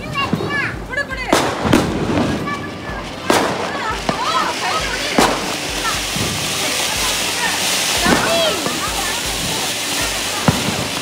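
Diwali firecrackers burst in a rapid outdoor barrage, sharp loud cracks and booms repeating every second or so over a constant crackling, hissing background of distant fireworks.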